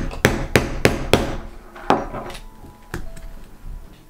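A mallet strikes a stitching chisel through leather in quick, sharp knocks, four rapid blows then a few slower spaced taps, close and crisp while making a skillet cover.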